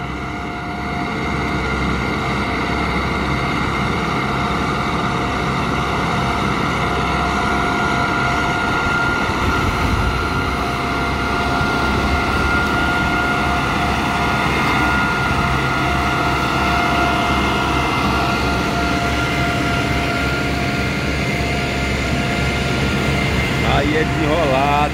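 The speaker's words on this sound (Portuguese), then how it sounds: "mas tem força esse trator, hein, galera" An old, heavy-hauling tractor engine runs steadily and close by, a continuous low droning rumble with a rough, even texture throughout, with no clear pauses or changes in pace.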